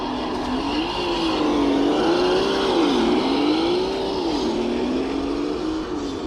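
A small Traxxas TRX4M RC crawler truck with a stock brushed motor drives steadily, its electric whine rising and falling continuously in pitch as the throttle varies, close and fairly loud with no voices.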